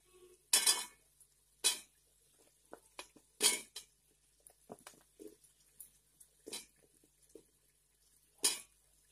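Potatoes tipped into a pan of mutton and peas for vegetarian tahiri, then stirred: sharp spoon-on-metal clanks and scrapes in irregular bursts, close and fairly quiet, with pauses between.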